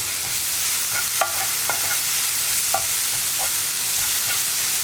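Chilli powder mixture frying in a pan for jackfruit seed mezhukkupuratti, with a continuous soft sizzle and scattered scraping clicks of a spoon as it is stirred.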